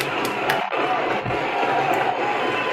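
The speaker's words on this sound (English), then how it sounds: "let's keep that applause going for our next presenter" Audience applause and cheering for a presenter at a boot camp retrospective event, a dense, steady wash of clapping and crowd noise holding at an even level throughout.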